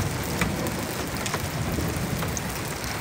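Heavy rain with big drops falls steadily during a thunderstorm in Lake Elsinore, a dense, even hiss with scattered louder drop hits and no voices.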